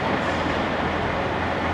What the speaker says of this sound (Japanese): 列車が発車しております。